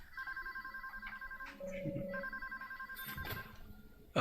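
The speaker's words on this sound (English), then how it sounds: "You should go answer the phone before it stops ringing." A telephone rings in the video game Deadly Premonition, repeated electronic trilling bursts in a steady pattern, with other game sounds and a short noisy clatter near the end.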